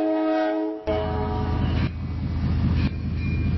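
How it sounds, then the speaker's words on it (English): AI-generated train passing a railroad crossing, produced with Meta AudioCraft: a loud sustained horn chord opens, then cuts to a heavy broadband rumble of cars rolling by with rhythmic surges, no voices. "we definitely got the train passing and the blowing horn comes first."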